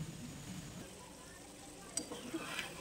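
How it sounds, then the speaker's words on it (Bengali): A spoon scrapes and stirs chicken bharta in a pan with a faint sizzle, giving soft, quiet scraping sounds and a few light clinks near the end. "আবারও একটু নাড়াচাড়া করে মিশিয়ে নেব"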